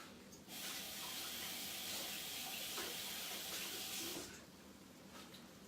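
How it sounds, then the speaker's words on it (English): A tap runs in a kitchen while hands are washed beneath it, a soft steady splash that starts abruptly, holds for about four seconds and then cuts off, fairly faint. "So let me wash my hands."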